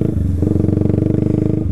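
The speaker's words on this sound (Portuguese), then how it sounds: "Essa moto aqui é uma 250 cilindradas, uma Fazer 250 2021" A 2021 Yamaha Fazer 250 motorcycle engine runs close by, a rapid, even pulsing putter that steps up slightly in pitch as the throttle opens.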